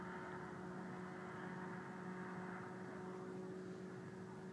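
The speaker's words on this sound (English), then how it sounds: "there are planes flying everywhere." Electric model airplanes flying at an RC field in Apple Valley make a steady, continuous whining drone that stays loud and even throughout, with no talking.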